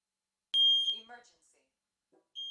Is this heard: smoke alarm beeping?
yes